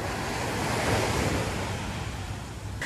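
Steady roaring wind buffets the microphone over crashing surf on a Boracay beach, a constant loud rush with no pauses.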